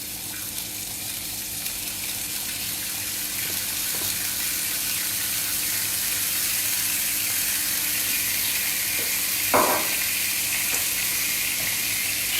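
Squid (encornets) seared in a pan in a restaurant kitchen, giving a steady, close sizzle from start to finish with a brief clatter near the end.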